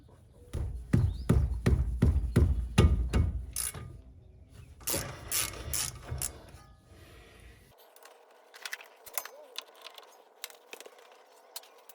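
A hand ratchet loosening 13 mm wheel hub bolts on a Chevrolet Malibu, close rapid clicking bursts in several quick sets, followed by quieter clicks and tool clinks.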